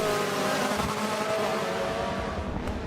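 A BMW touring race car in a WTCC sim racing round, engine droning loud and continuous at high revs through the final corners, with a steady roar and no clear gear changes.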